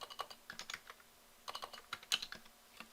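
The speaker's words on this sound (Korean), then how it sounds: "그냥 타이핑하죠." Quiet, close typing on a computer keyboard while entering DOS commands at a command prompt, with irregular bursts of light key clicks separated by brief pauses.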